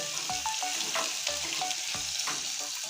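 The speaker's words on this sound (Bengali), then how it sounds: "প্রথমে লাল করে ভেজে নেব" Food is frying in oil in a pan until it browns, with a steady close sizzle. Quick spatula scrapes and light metallic clinks run through it.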